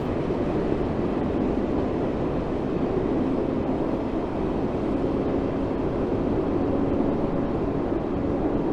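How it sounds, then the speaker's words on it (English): A Class 484 electric train on the Island Line in Train Sim World 2 accelerates, a loud steady cab rumble and hum with rising whine tones, continuous and without speech. "Let's give the train some power, up to 45 miles an hour."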